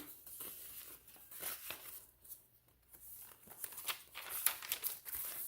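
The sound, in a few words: old paper envelope being handled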